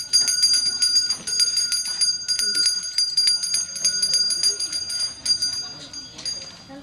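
Repeated bright metallic church bell strikes ring out in a steady rhythm, with sustained high ringing tones and faint voices underneath, at a feast for Saint Michael the Archangel.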